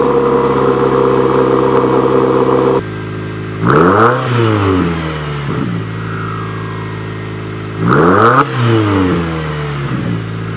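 A Subaru WRX fitted with a Nameless catback exhaust revs hard twice, each rising snarl falling back to a deep burbling idle, loud and close with no talking.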